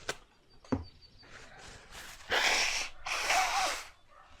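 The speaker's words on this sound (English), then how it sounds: "I need to blow my nose." Someone blows their nose in two long, forceful bursts after a couple of short sniffs, close and fairly loud.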